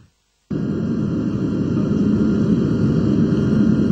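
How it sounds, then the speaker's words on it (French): A plane landing on the tarmac of Léopold Sédar Senghor airport in Dakar at night produces a loud, steady engine roar that starts abruptly and holds without a break. "l'avion transportant le Premier ministre Diango Sissoko a atterri sur le tarmac de l'aéroport Léopold Sédar Senghor de Dakar"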